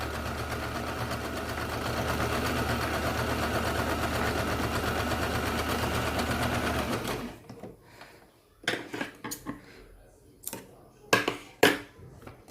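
Sewing machine stitching a newborn baby's pant, a steady continuous mechanical whirr for about seven seconds, then stopping and followed by scattered clicks and handling knocks as the fabric is adjusted.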